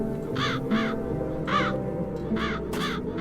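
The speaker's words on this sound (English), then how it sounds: "The crows haven't left anything of the town's banner." Crows give repeated harsh caws in the video game The Dark Eye: Chains of Satinav, five or six calls in loose pairs, prominent and near, over a quiet ambient bed with no speech.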